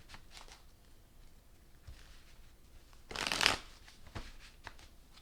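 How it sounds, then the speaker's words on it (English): A tarot deck is shuffled by hand, giving one quick, crisp riffle burst midway through an otherwise quiet, close-up stretch with only faint handling noise. "Let's do a couple more shuffles."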